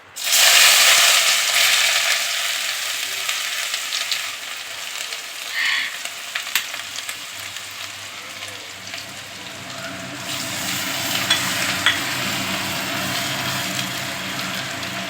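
Chopped onion frying in oil with bay leaf and chilli gives a loud burst of sizzle as it hits the pan, settling into a steady hiss with brief clinks and scrapes.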